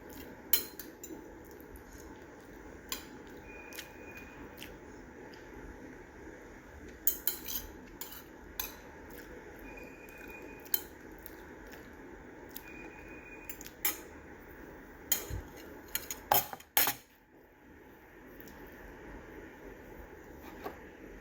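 Cutlery clinking against a plate during a fried rice lunch at home, scattered light taps and scrapes over a steady low background hum, with a few sharper clinks close by.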